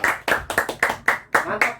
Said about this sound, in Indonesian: Mantap, tepuk tangan dulu.